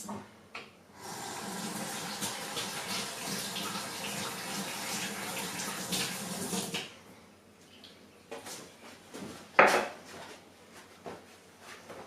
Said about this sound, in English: Just going to give this a quick rinse.